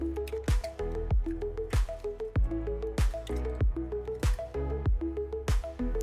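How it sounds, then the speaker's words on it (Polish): Three eggs cracked into a bowl and beaten, with repeated wet squishing and dripping strokes in a steady rhythm, close and fairly loud, no talking. "Do miski ubijamy 3 jajka."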